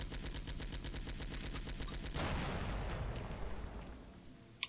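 Gunfire in the video game Stalker Shadow of Chernobyl, with rapid repeated shots followed by a louder explosive blast from a grenade that rumbles and fades, then a sharp final crack.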